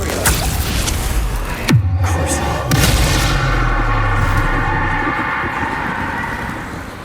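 A Bombarda spell in Hogwarts Legacy on PS5 goes off with a loud, deep blast followed by a second boom, then a long rumbling, crumbling tail that slowly fades.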